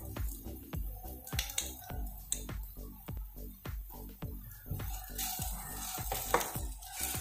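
A spatula stirs chapathi pieces deep-frying in a pan for restaurant-style chilli kothu chapathi, giving a steady rhythmic run of close metallic scrapes and clinks over a continuous sizzle, with no talking.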